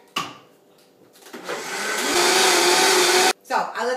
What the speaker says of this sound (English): Put it in your blender or your Vitamix and just take it for a spin.